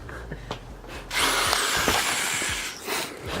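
A drill boring a hole through a fiberglass hood panel on a 2017 Honda Civic Si, a few short taps and then a sustained grinding whir that fades out, with no speech.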